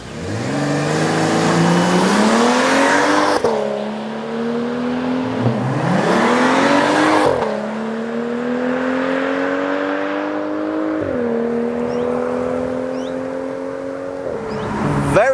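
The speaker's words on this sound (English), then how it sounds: "This is just a BMW 335i." A BMW 335i engine revs hard under acceleration while driving, climbing through several gears with rising, strained pitches and brief drops at each shift, loud and close throughout.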